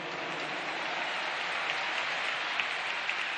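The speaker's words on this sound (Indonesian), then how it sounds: "Tepuk tangan buat semua yang hadir di sini." Dense, steady applause from a large stadium crowd at an Indonesian presidential campaign rally fills the whole stretch, loud and continuous with a few sharper claps popping out near the end.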